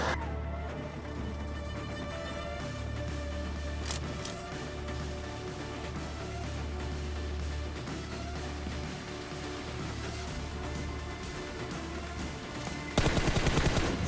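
Sustained automatic gunfire and bursts of shots from a PUBG Mobile match, dense and loud throughout with no talk, ending in a sharper, louder burst near the close.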